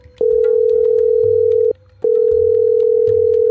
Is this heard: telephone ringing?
yes